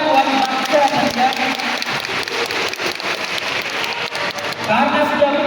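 Children's congregation at a Holy Innocents church service clapping together, a dense, steady patter of small hands lasting a few seconds with voices mingled in.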